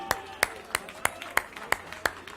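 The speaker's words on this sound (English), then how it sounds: "Both table 29 and 12, please stand up and give yourselves a round of applause." Sharp claps land in an even rhythm, about eight in quick succession, fairly quiet and close, as a hackathon audience gives a round of applause.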